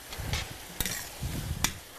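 Pasta sauce with mushrooms, fresh Italian parsley or basil and Romano cheese being stirred in a pan, with a few soft scraping strokes and faint sizzling, close and quiet, with no talking.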